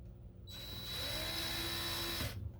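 A power drill whirs steadily for about two seconds, loud and close, with a high steady whine, then winds down and stops, drilling to connect a bow limb.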